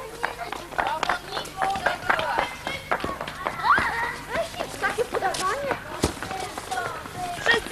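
Children running a race outdoors at a summer holiday camp in Czarne, Poland, their quick footsteps pattering steadily under loud excited shouts and chatter from the kids and an adult.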